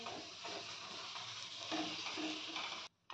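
A coriander paratha fries in a little oil in a pan at medium-high heat, giving a steady close hiss and sizzle that stops abruptly at the end.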